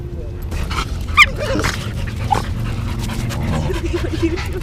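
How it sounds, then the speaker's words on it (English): A pack of seven or eight dogs playing at a dog park, with nearby panting, whimpers and yips over constant rustling movement, while people talk throughout. "the dogs keep following, so there's like a pack of like 7 or 8 dogs"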